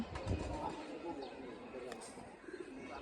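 Pigeons coo softly nearby, low burbling calls mixed with faint chatter and a voice in the background.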